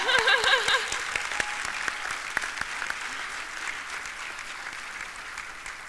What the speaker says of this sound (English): I think we deserve a round of applause for that one